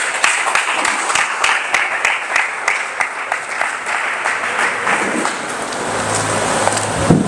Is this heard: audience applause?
yes